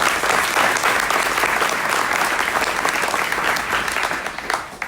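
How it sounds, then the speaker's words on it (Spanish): Loud, dense applause from a conference audience at the Arde Latino America event, many hands clapping close and steady throughout before tapering slightly at the end. "Un aplauso, por favor."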